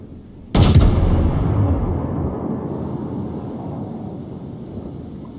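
Battleship main-gun salvo in World of Warships, a single sharp, loud boom that hits suddenly and then rolls off into a long, slowly fading rumble.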